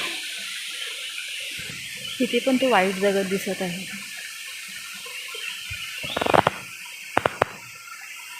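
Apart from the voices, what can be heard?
spring water overflowing over stones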